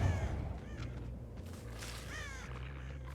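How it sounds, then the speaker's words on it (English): Crows cawing in the horror video game Dead by Daylight, a few harsh caws rising over a low ambient drone and mechanical rumble, moderately distant and fairly quiet. "No, it's the crows."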